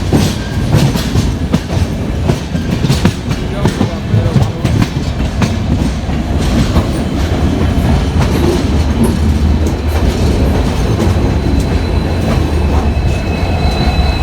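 Indian long-distance passenger train running on rails, a steady, loud, close rumble of wheels and carriages with faint clickety-clack, continuous throughout with no talking.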